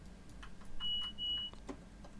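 Door beep on a BR Class 444 train on the South Western Main Line at a Christchurch stop: a thin, steady electronic tone of about half a second, repeating once after a brief gap, set against a low cab rumble.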